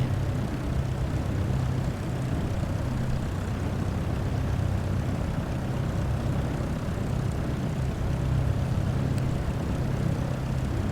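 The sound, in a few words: aircraft taxiing in Microsoft Flight Simulator 2024 video game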